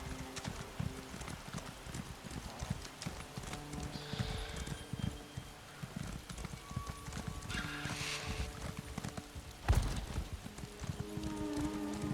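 Horse hooves clip-clop steadily in The Elder Scrolls Online, Missing in Murkmire, with a faint whinny and wind-like ambience. The hoof beats run continuously at moderate loudness.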